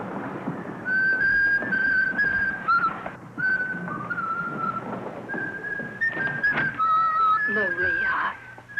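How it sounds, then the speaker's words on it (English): A young novice whistles a light tune to herself, with clear sustained melodic notes close by and brief pauses between phrases. Some speech occurs near the end. "I was only whistling to myself"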